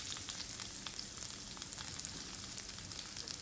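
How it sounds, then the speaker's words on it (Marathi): Onion sizzles steadily in hot oil along with ginger and garlic, a dense, continuous frying crackle with no pauses, fairly close and alone without talk. "चरचरीत तेलान घातलो कांदो, समते घातले जिंजर गार्लिक, समते फ्राय करून घेवपाचे"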